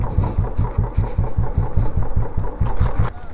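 Vehicle engine running steadily while engine braking on a downhill stretch during a camping trip near Bangalore, a close, loud, rhythmic low pulsing throb throughout with no talk.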